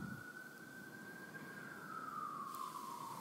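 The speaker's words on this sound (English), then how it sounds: "the sirens are going off in the background" An emergency siren wails faintly in the distance, a single sustained tone that holds steady and then slowly slides downward, heard alone over quiet background noise.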